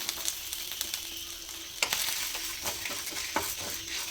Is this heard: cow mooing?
no